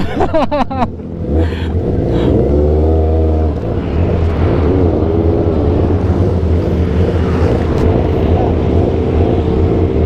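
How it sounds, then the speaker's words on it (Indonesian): A motorbike with a loud aftermarket exhaust is revved, a few sharp blips at the start and then a steady, loud, rumbling engine drone held close by. "Ngetes knalpot bacot."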